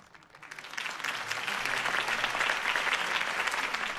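Crowd applause rising after a campaign speech by Harvey Dent in a Batman video game, a dense, steady clapping that swells within the first second and holds loud and continuous.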